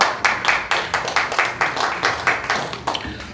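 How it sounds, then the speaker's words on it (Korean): Audience at a church prayer gathering and appointment ceremony claps in distinct, rhythmic unison beats, a loud, steady pulse of hands welcoming a speaker. "박수로 환영합니다"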